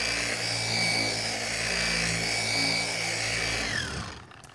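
A car polisher runs at a medium speed setting while working glaze into paint, giving a steady close motor whir with a faint tonal whine that winds down and stops near the end.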